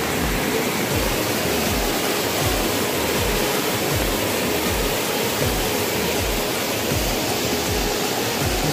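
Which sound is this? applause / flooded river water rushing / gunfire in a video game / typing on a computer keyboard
flooded river water rushing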